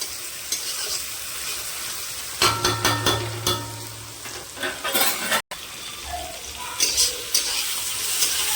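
Chopped tomatoes and chillies frying in a pan, with a crackling sizzle and bursts of louder spitting while a utensil scrapes and stirs in uneven strokes, with no voices.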